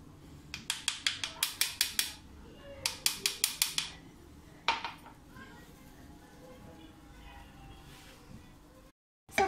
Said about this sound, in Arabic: وغادي نخلط مره اخرى كلشي مزيان